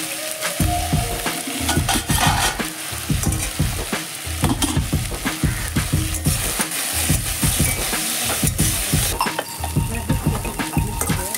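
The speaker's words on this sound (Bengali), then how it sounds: "ভেন্ডিতে খালি তেলেই ভেজে নেব" Okra fries in oil with green chillies, sizzling steadily in a pan while a spatula stirs and scrapes in a regular rhythm throughout, close and fairly loud.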